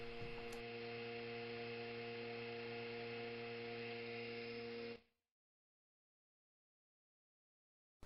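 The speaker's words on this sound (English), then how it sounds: "This is just a small 3rd horsepower vacuum pump." A small one-third horsepower vacuum pump drones steadily with a strong, even electric hum for about five seconds, then cuts off abruptly into silence, with a brief click at the very end.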